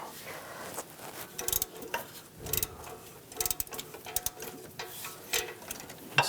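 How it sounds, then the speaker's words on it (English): A ratchet turns an O2 sensor socket to loosen the upstream oxygen sensor on a 2011-2018 Ram 1500 with the 3.6L V6, giving quick, irregular bursts of metallic clicking at close range. "Now I'm going to use an O2 sensor socket."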